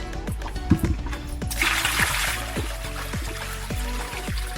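Dirty gray laundry water pouring out on a sailboat, a steady splashing gush with a brief bump near the start and a low rhythmic pumping or chugging underneath, close by and with no talking.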